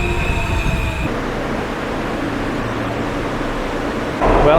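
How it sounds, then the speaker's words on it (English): A subway train arriving at a Roosevelt Island station rumbles loudly nearby with high metallic whines and screeching wheels, then a louder rush of noise at the end. "Well, the train came."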